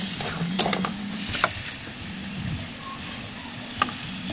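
Meat sizzles steadily in a frying pan, a close, even crackle broken by a few sharp clinks of a utensil against the pan.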